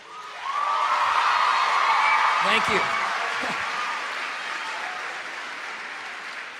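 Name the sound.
audience cheering and applauding a speaker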